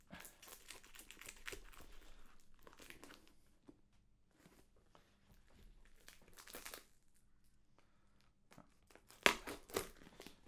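A big taped cardboard box is opened by hand for an unboxing: quiet crinkling, picking and tearing of tape and cardboard in short scattered bursts, ending in a few louder rips.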